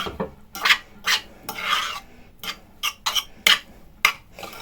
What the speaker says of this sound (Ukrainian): І добре-добре перемішуємо.